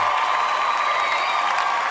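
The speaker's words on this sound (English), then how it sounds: "Round of applause for wealth and abundance" A crowd applauds and cheers on a radio show, steady dense clapping with scattered whoops filling the moment at moderate loudness, no talk over it.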